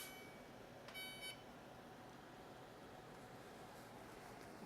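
A kitchen timer gives a quick burst of bright electronic beeps, one short beep followed by a longer rapid run, then a quiet kitchen room.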